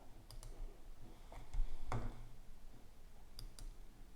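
Quiet computer mouse clicks, a handful of sharp isolated taps scattered over a few seconds against soft room noise, with no talking.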